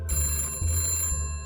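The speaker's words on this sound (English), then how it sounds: "Answer the phone, lady." A telephone bell rings in a sci-fi audio drama, a bright sustained metallic trill pulsing in quick bursts, loud and close, with no talking.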